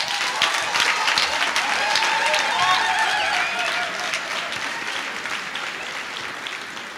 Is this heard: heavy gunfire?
no